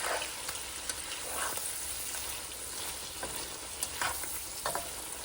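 Peeled shrimp fry in a pan, giving a steady close hiss of sizzling oil with occasional stirring scrapes and a few brief pops throughout, no voices.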